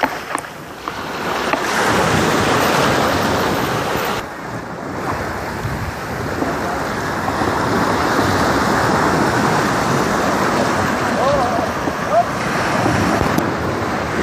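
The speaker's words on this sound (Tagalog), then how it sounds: "napakasarap po pakinggan yung ampas ng dalampasigan" Small waves wash steadily onto the shore at Holiday Beach in Lobo, Batangas, a continuous close surf roar with gentle swells, mixed with wind buffeting the microphone.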